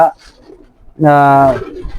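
Racing pigeon squabs give a single loud, drawn-out coo close by after a brief faint call and quiet pause.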